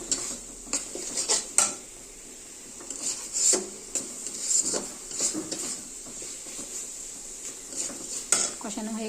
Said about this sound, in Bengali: ভেজে রাখা আলু কাঁঠাল দিয়ে দিচ্ছি।